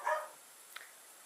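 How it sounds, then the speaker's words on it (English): A pet dog gives a brief, faint bark at the very start, followed by near silence with a tiny click midway. "That is my pet dog barking"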